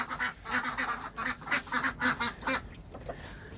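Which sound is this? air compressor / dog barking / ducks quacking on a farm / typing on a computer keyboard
ducks quacking on a farm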